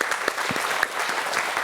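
An audience applauds in a brief burst of clapping, dense and steady across the short moment.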